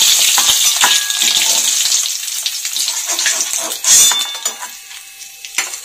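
Loitka dried fish sizzles loudly in hot oil, with a continuous crackling fry and the scrape and clink of a utensil lifting the pieces from the pan.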